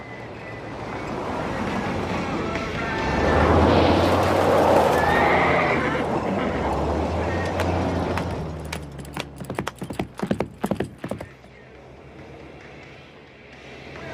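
A horse whinnies loudly and close by, its hooves clip-clopping in a sharp, uneven burst of strikes before fading, with a low engine rumble underneath.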